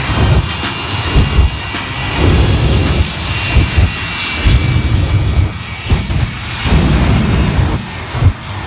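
A jet-powered truck engine roars loudly and continuously at an air show, surging and pulsing with deep rumbling power, no voices over it.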